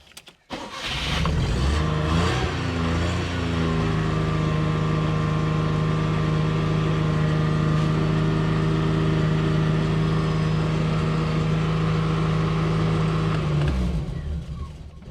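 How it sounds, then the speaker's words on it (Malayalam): A Maruti 800 car that will not stay running cranks briefly, catches and settles into a loud, steady idling drone with a slight early rise in revs, then dies away near the end. "ഞാൻ നമ്മുടെ വണ്ടി സ്റ്റാർട്ട് ചെയ്യാൻ പോവാണ്"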